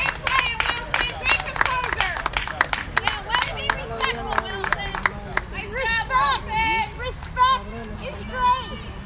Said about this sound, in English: Big crowd of away fans here.